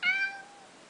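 Cat, a ringtone on a Nokia Lumia 625 phone, plays a single clear cat meow, close and fairly loud, that starts sharply and then trails off within a second.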